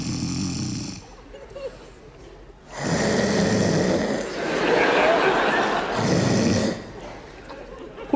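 Staged snoring from a Uralskie Pelmeni comedy sketch comes as deep, rasping snorts at the start and again later, with a long burst of bright, noisy audience laughter in between.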